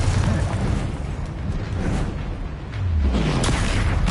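A Confringo fire spell detonates in the Hogwarts video game, a loud booming blast with a low rumbling tail, followed by another heavy whooshing burst near the end over a dense, continuous combat soundscape.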